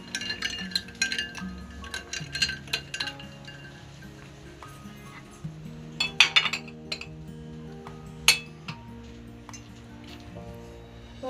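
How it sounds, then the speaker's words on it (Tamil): Ice cubes clink and rattle in a glass as a cold drink is prepared in a home kitchen, with repeated sharp, close clinks scattered irregularly over about eleven seconds. "இப்போ நாங்கள் ஐஸ் கட்டி சேர்த்து குடிக்க போகிறோம்"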